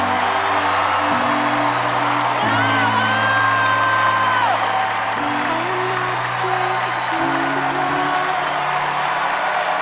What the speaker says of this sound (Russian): Да хватит хлопать, ты не слышу ничего уже.